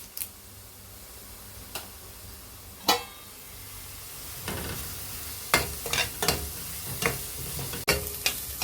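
Chopped onions and curry leaves sizzling in a pan, a low steady frying hiss broken by sharp spoon-stirring clinks and scrapes that grow more frequent toward the end.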